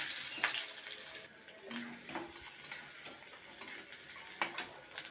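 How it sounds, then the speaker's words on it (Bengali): Chopped onions frying in mustard oil with panch phoron and green chillies, a soft sizzle broken by scraping stirs of the spatula against the pan. "পেঁয়াজটা ভাজা ভাজা হয়ে গেছে"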